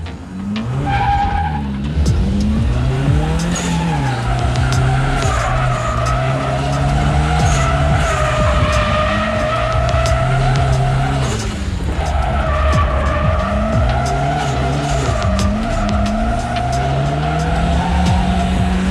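Revived race cars, including a 240, drifting on a track with loud, continuous tire squeal and skidding over roaring, revving engines, close and sustained throughout.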